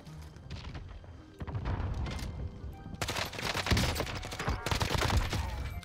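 F2000 rifle firing in Warzone, rapid bursts of close gunfire in two clusters, the second louder and denser, with thumps and scattered distant shots between.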